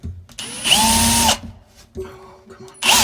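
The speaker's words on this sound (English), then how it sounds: "I'm going to drill a hole" A power drill whirs loudly in two bursts, boring into a hardwood floor, with a short pause and lower mechanical rattling between them.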